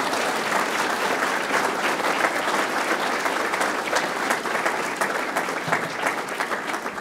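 Sustained applause from an audience for Don Orseno, executive director and CEO of Metra, after his address; a continuous roar of many hands clapping, holding steady and thinning slightly near the end.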